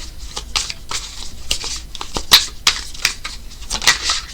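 Tarot cards being shuffled, a run of quick papery riffles and soft slaps in irregular bursts, close and fairly clear with no talk over them.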